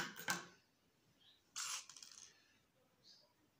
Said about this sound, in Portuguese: Agora, eu posso tá cortando a linha